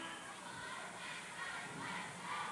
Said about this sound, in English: You can hear the crowd in the background roaring and cheering for the Beck Bobcats and the Brainerd Mustangs.